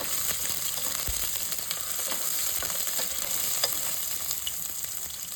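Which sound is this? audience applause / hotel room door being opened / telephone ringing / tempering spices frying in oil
tempering spices frying in oil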